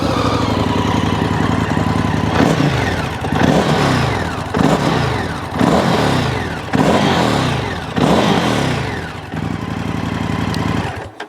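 An Indian FTR R Carbon 2022 motorcycle with an Akrapovic exhaust idles at a standstill, then is blipped five or six times in sharp, rhythmic revs that rise and fall, loud and close, with no talking.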